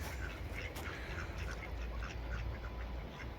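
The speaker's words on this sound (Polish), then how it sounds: "A tutaj mamy kaczuszki." Ducks quacking at a distance, several short calls scattered through the clip over a steady low rumble of outdoor background noise.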